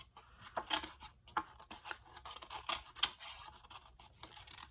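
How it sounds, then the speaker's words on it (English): Tim Holtz snips cutting and poking into a pressed flower card, giving a series of short, crisp snips and scratchy paper sounds at close range, with no talking. "I'm going to try these Tim Holtz snips and just kind of poke a hole"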